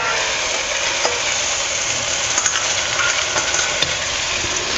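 Onion and tomato masala stirred and frying in a pan gives a steady, close, even sizzle with faint scraping, continuing throughout with no voices.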